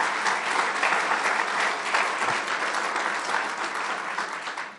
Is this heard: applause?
yes